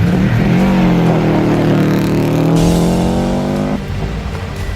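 Subaru Impreza rally car on a night stage, engine loud and close, revving up through rising pitch, then easing off as the roar drops toward the end.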